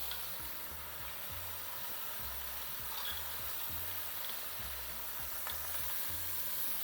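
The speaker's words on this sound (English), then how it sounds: "So now fry this in the masala and in the chicken for another 2 minutes." Chana dal frying with chicken in masala in a pan, a steady close sizzle with repeated scraping stir strokes throughout.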